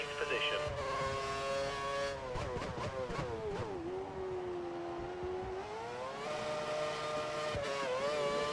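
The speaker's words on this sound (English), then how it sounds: "Bit of wheel spin, not too good." An F1 car in the F1 2013 racing game with its wheels spinning, a high, whining engine note that rises, dips and climbs again as revs fluctuate, with a voice talking over it.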